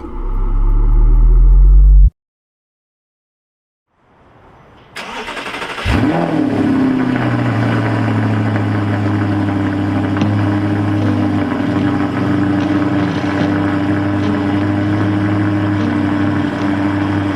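An Audi R8 V8 starts cold in the rain. Brief engine sound, a pause of silence, then the starter catches and the engine flares loudly before settling into a steady, deep, close idle.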